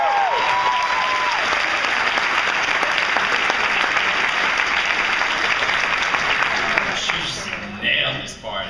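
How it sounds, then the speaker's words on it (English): A large audience at a film Q&A session gives sustained, loud applause for Scarlett Johansson. The clapping is dense and steady, with a voice briefly audible at the start, and it thins out near the end. "I'd like a round of applause for Scarlett Johansson"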